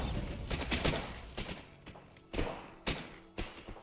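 Bombarda blasting spells from Hogwarts Legacy: a series of loud, sharp explosive thuds in irregular bursts, each with a crackling tail over a rumbling battle background, no voices.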